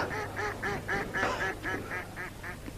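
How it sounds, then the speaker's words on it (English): Ducks scared by a matchlock gun fired at a castle quack in a steady series of about a dozen calls. The calls are close and clear over a low background rumble. "I think I've scared a few ducks there"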